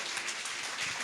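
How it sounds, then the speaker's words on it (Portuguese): A church congregation applauding at a large celebration service, a dense, steady wash of clapping from many hands for about a second, no voices above it. "Aplauda o Senhor."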